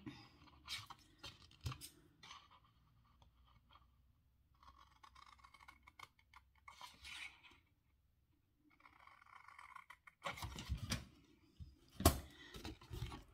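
Scissors cut through folded paper in a quiet room, with soft snipping and scraping in scattered bursts and pauses, growing louder and crisper near the end.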